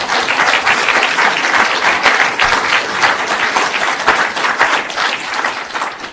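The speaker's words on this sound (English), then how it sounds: "let's give them another round of applause" An audience at a student lecture series gives a loud, close round of applause, dense clapping that continues evenly throughout with no talking over it.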